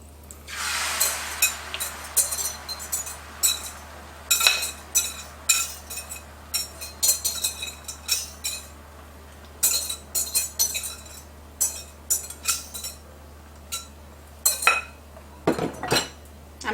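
Eggs going into a pan and being stirred with a wooden spoon for breakfast rolls, heard as scattered clinks, scrapes and taps against the pan over a soft steady hiss.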